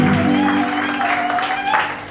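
A church congregation claps and cheers at a French-language healing service, a short burst of applause under a loud voice.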